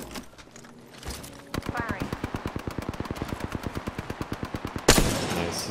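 Rapid automatic gunfire rattles in a video game, a long burst of evenly spaced, punchy shots ending in a louder blast, with a player's voice talking over the start.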